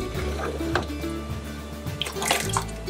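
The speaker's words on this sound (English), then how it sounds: "I do have underneath the pan to catch the whey" Goat cheese whey dripping from draining curds into a pan below, a soft steady trickle with scattered drips, close and fairly quiet.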